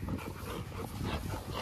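A high-drive dog named Bishop pants and whimpers close by, a steady breathy rasp with thin whines rising over it, continuous and fairly loud for the whole moment.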